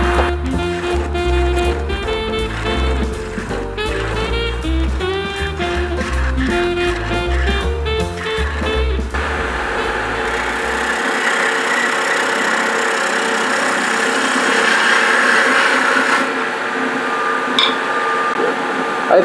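A wood lathe spins a small Christmas tree blank while a detail spindle gouge works the wood: a steady motor hum for the first half, then a broad, hissing cutting sound that carries on to the end.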